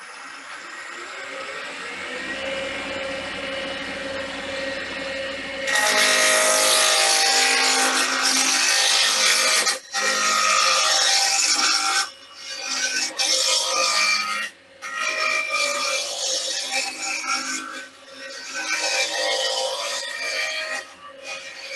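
Wood being turned on a lathe to shape a wig stand, with a steady rasping scrape of the cutting tool against spinning wood that starts, stops and resumes in long passes, close and fairly loud with no talk.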